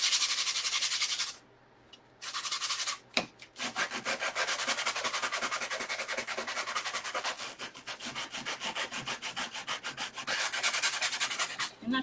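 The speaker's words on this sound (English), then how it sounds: "we're just going to sand off" Rapid back-and-forth rasping of sandpaper rubbing orange paint off the leg of a gnome figure, close and steady in rhythmic strokes, with a brief pause early and a short break near three seconds.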